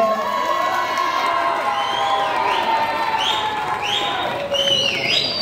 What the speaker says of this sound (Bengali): একটা জোরে হাততালি মনির জন্য